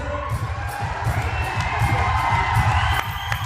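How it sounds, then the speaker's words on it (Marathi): A large crowd at a farmers' group gathering in Kawda village, Kalamnuri taluka, breaks into loud cheering, clapping and whoops, with children's shouts mixed in, sustained for several seconds. "जोरदार टाळ्या"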